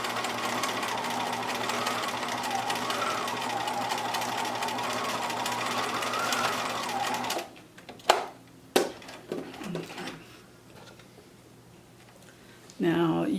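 Sewing machine stitching the curved center front seam of a homemade fabric face mask, a steady loud mechanical whir for about seven seconds, then stopping into quiet handling clicks before the motor briefly starts again at the end.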